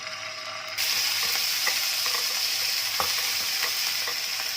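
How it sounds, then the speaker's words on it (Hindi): Chicken cooks in about three tablespoons of oil for spring roll filling, a bright, even sizzle that swells suddenly and then holds steady, with faint stirring clicks. "तमाम चिकन को हमने इसके ऊपर डाल दिया है और अब हमने इसको धीमी आंच पे पकाना है"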